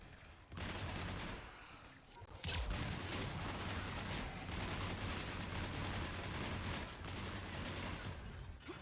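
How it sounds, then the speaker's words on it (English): Heavy gunfire in the video game Mass Effect 3, a dense continuous barrage of rapid shots and blasts, loud and sustained with a sharp burst just before the midpoint. "Foxtrot and Bravo are taking heavy fire"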